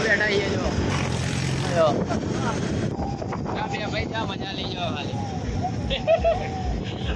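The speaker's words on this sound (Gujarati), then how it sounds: "હવે ટ્રેક્ટરમાં બેઠા છીએ" Riding on a moving tractor, with a steady rumbling engine and wind noise throughout while people talk over it.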